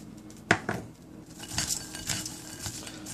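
Peanuts stirred with sugar in a pan for honey roasted peanuts, giving a sharp metallic clink followed by rattling, scraping and pattering of nuts against the pan, fairly close and without talk.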